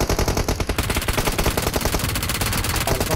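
Rapid automatic gunfire in the mobile battle royale game PUBG Mobile, a loud, continuous burst of closely spaced shots filling the whole moment with no talk over it.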